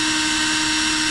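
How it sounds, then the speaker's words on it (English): A power drill whines at a high, steady pitch while boring out plastic push-pin fasteners on a Chrysler 300, one loud, close, continuous burst. "So I'm gonna go ahead and drill these suckers out"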